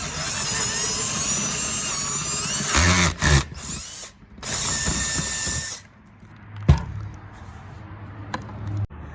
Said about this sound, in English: And then we should be able to go right up to our 11mm diameter bit.